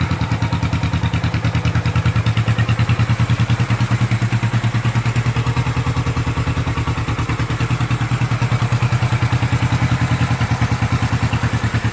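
A 1972 Honda CB450 K5 motorcycle engine runs steadily nearby, a loud, even, throbbing idle with a fast regular pulse and a light mechanical clatter throughout.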